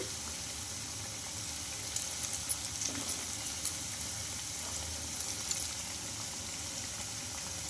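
Leftover idli batter snacks fry in hot oil, giving a steady, even sizzle with faint crackles and occasional soft stirring knocks and no talking.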